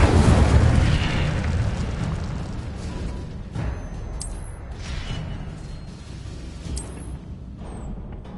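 Incendio fire spell in the Hogwarts Legacy video game, a heavy roaring burst of flame that starts loud and rumbles on, slowly fading, with a few faint sharp cracks and chimes over it.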